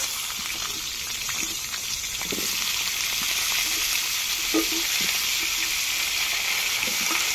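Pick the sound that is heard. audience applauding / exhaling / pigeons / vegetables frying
vegetables frying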